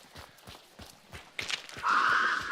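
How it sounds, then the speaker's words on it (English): A horse's hooves clip-clop in a steady walking rhythm at moderate distance, followed by a brief rustle and then a sustained bright whinny-like sound that grows louder toward the end. "I heard a horse"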